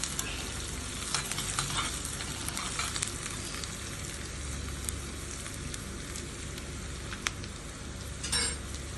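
Tapioca masala with green chilies sizzles and fries steadily in a pan, with a spoon scraping and stirring through it in quick, scattered strokes, close and fairly quiet.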